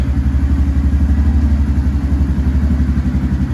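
A Honda Grom motorcycle engine idles up close after an oil change, a loud, steady pulsing putter with an even rhythmic throb and no other sounds.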